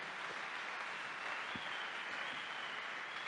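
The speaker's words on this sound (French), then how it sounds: "Est-ce qu'on peut d'abord acclamer pour la parole de Dieu?" Church congregation applauding steadily at a prayer service, a soft, even wash of clapping from a distance with no voices over it.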